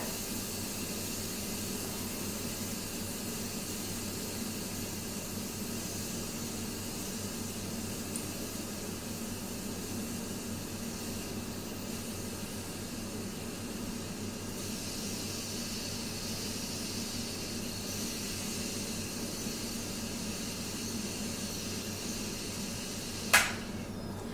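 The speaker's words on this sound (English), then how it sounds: "So the steam is starting to slow down." Steady broadband hissing of steam venting from an Instant Pot pressure valve, continuous and fairly even throughout, ending with a brief sharp click near the end.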